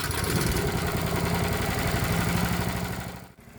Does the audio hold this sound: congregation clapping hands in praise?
no